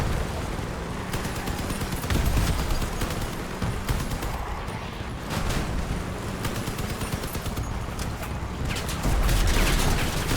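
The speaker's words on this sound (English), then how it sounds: "this feels so much more flexible with the machine guns rather than the shotguns" Vehicle-mounted machine guns fire in Crossout, a vehicle combat game, as dense rapid bursts of gunfire that run almost the whole time, heavy booms thumping in now and then amid loud battle noise.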